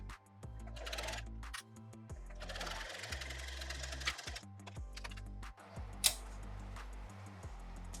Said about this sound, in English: we're gonna take it over to the machine and sew 3/8 seam allowance down this corner